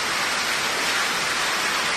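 Heavy rain falling in Abohar, a dense, even wash of rain noise that stays constant and close for the whole stretch, with no voices.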